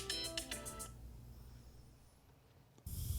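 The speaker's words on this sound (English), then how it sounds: "That was my alarm." A phone alarm chimes in a short rapid melodic tone pattern for about a second, then fades into quiet room noise before a louder thump at the end.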